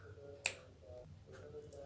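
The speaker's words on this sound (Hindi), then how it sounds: "मैं इससे चुटकी बजाऊंगी" One sharp, close finger snap cracks out alone, followed by quiet talking.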